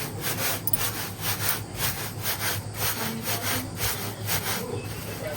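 Pieces being cleaned in a winnowing basket, giving a repeated rhythmic scraping rustle with pulses about twice a second, close and steady throughout.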